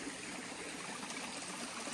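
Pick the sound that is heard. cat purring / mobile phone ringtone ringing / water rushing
water rushing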